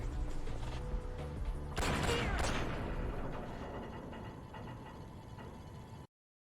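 Rapid weapon fire in the Metal Gear Solid: Snake Eater 3D game sounds as a loud, dense burst of shots and blasts at the start of a boss fight, fading into lingering rumble before cutting off.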